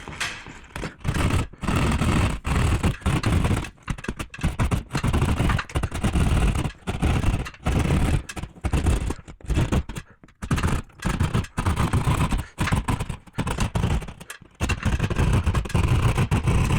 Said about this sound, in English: So I'm just using a Sawzall blade